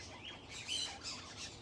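Parakeets chirp and tweet in quick, overlapping high calls, fairly faint and a little distant, with a soft steady background hum beneath them and no talking.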